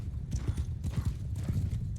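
Horse hooves clip-clop at a steady gallop in a Bannerlord medieval battle, loud and continuous with dense rhythmic thuds, and a faint whinny in the mix.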